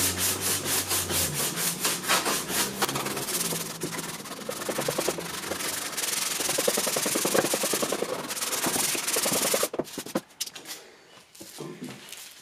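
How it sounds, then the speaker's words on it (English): Cracks in Honda scooter plastic bodywork are sanded by hand with 150 to 220 grit sandpaper, giving close, continuous scratchy rubbing strokes in a fast back-and-forth rhythm that slow and fade near the end. "Just using some, I think this is 150, maybe 220 sandpaper."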